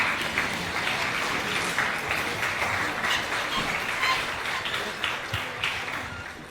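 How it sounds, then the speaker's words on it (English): An audience at a launch event in Uganda applauds steadily as a speaker is introduced, a dense wash of clapping that holds for several seconds before starting to fade. "please offer a round of applause to Dr. Abubakar Hassan Matovu"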